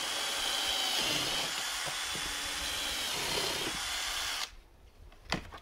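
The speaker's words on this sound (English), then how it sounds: "So all I'll do is just drill a couple of holes in" A power drill boring holes into the feet of a bonsai pot, a steady close whine for about four seconds that then cuts off, leaving quiet handling noise.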